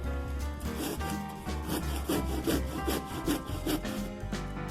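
A hand saw cuts wood lengthwise for the handle of a carving knife made from a table knife, with steady, rhythmic rasping strokes close up and no talking.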